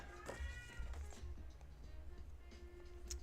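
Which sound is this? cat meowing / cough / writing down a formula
cat meowing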